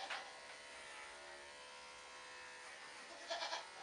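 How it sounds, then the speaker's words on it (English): Electric clippers giving a goat doe a quick shave before kidding: a faint, steady buzz runs throughout, with a short louder burst near the end. "I'm going to go ahead and just do a quick shave on her as well"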